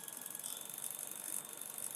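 A Bernina sewing machine stitches a buttonhole with a fast, steady mechanical whir and rapid ticking, close and continuous, no one talking.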